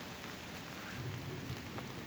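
Steady rain patters on and around a tree stand deck on a wooded hillside during a bow hunt for deer, a constant close hiss of drops with a few slightly heavier spatters, no voices.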